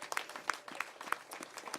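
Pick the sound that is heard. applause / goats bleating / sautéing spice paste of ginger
applause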